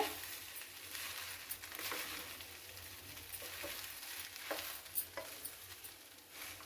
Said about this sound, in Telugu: అన్నము బాగా ఇలా కలుపుకోవాలి